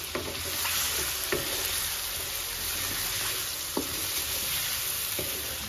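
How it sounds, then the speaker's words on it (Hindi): Eggs, potatoes and fried onions sizzle and fry in a pot for biryani, a steady close hiss broken by a few clinks and scrapes of stirring. "अंडे, आलू और प्याज जो मैंने डाली थी वो सब जो है ये अच्छे से भून के"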